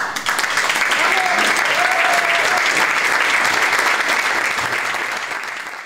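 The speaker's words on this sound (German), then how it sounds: "Ein riesen Applaus" A comedy show audience applauds with dense, sustained clapping that fills the room, loud and close, fading slightly at the end.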